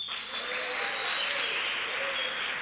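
Applause from the audience at a university celebration rolls on steadily: many hands clapping at once in a continuous wash, with a faint high whistle-like tone running underneath.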